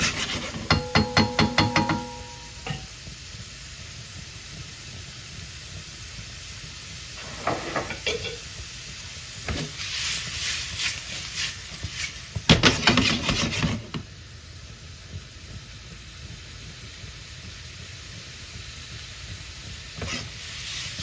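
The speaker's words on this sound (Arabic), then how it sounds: "نخليوها غير يتقلى شويه الكروفيت" Shrimp fry in butter in a pan, a soft steady sizzle underneath with spoon stirs and scrapes arriving in short clusters, nearby and moderate in volume.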